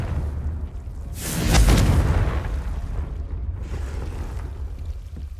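A Confringo fire spell in Hogwarts Legacy bursts as one loud, booming blast with a rumbling low thump that swells and then fades into a steady background hum, with no voices over it.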